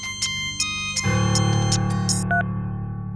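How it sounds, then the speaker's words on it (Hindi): A mobile phone ringtone plays loud and close, first as repeated bright electronic chirps, then as a sustained melodic tone, with no voices over it. "सर आपका फोन का रिंग बज रहा है।"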